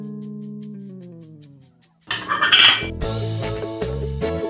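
Dishes being washed by hand: after a short descending musical tone, metal utensils and cutlery clatter and clink in quick, close bursts, rattling on steadily to the end.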